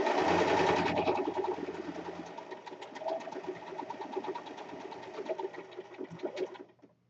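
Sewing machine stitching down a seam around the sleeve and underarm of a Renaissance corset, a steady dense rattling hum that is loud at first and then runs on evenly before stopping.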